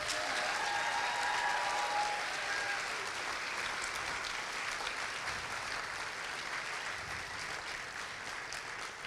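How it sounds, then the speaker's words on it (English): Steady, sustained applause from an audience at an eighth-grade graduation ceremony, a dense field of clapping hands holding an even level throughout with no talking. "Let's give them another round of applause."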